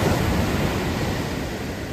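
Waves crash onto a Plum Island beach under a full moon, an unbroken roar of surf that swells slightly at first and then holds steady, close to the listener.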